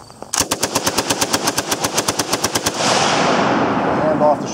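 A ZB-30 machine gun fires a full magazine from a tripod: loud, evenly spaced rapid shots for over two seconds, then a long echoing tail as the burst ends outdoors.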